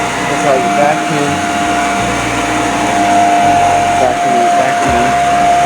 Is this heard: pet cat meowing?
no